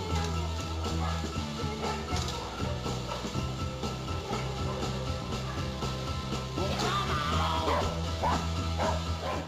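Dogs in a security dog training session, with several barks and yips rising over a loud, steady tonal background and continuous activity, fairly near.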